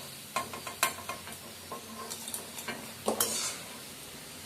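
Neem flower pakoda vathal frying in hot oil, a low steady sizzle broken by sharp clinks and scrapes of a utensil stirring the pan at close range, with no one talking.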